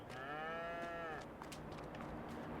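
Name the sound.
cows mooing in cow barn, Farming Simulator 22 video game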